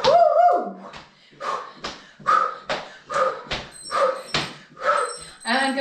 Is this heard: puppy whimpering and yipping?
yes